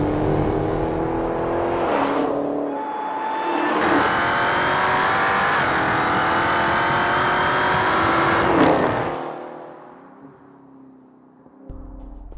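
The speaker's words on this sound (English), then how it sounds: "The Dodge Charger Hellcat sounds like the stuff of fantasy." A Dodge Charger Hellcat, a 707-horsepower large family sedan, revs hard while driving, its loud engine rising and holding a strained roar for several seconds before easing off as the car settles down.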